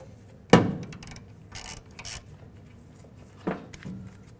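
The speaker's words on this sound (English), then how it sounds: "I'm going to use a 14mm socket to get the first nut off." A 14mm socket loosening a shock absorber nut on a 1964-67 Pontiac GTO front suspension gives a sharp metallic clank, a few light ratcheting clicks, then a second softer knock, close and quiet.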